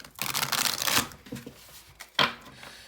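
A deck of tarot cards shuffled by hand, close up: a dense riffling burst in the first second, then softer taps and one sharp flick near the end, with no talking.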